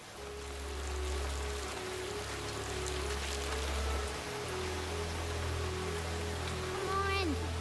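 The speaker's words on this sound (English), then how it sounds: "The rain is only getting worse, Apple Bloom." Rain falls in an animated cartoon, a steady broadband hiss of downpour that fills the scene at moderate level, with a low rumble and voices talking over it.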